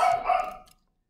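Several excited pet dogs let out a short burst of loud, close barks at home that fade out within a second.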